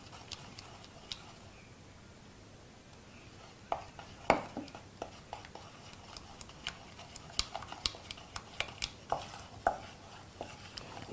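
Egg yolks being mixed into warm chocolate cake batter, with a scattering of clicks and knocks of a utensil against a bowl that become more frequent in the second half, fairly faint and with no talk.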